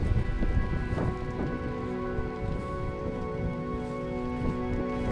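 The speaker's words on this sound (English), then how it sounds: "the rain is now getting heavier and heavier" Heavy rain pours continuously on a Lake District hike near a campsite, a loud, dense hiss with occasional low rumbles and no speech.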